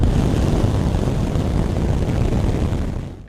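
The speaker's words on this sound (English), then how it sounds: "SpaceX just lit all 33 Raptor engines of Booster 19 at full power" Deep, continuous roar of all 33 Raptor engines firing together on SpaceX Booster 19 during a full-power static fire, a dense broadband rumble holding steady before easing off at the end.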